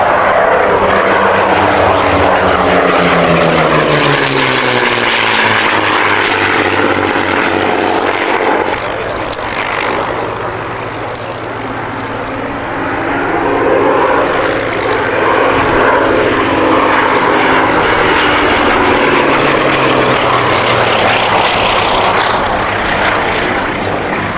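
A WWII-era propeller aircraft built in 1945 roars past on a low flypast, its loud droning engine swelling, dipping briefly and building again as it passes the crowd, with no talk over it.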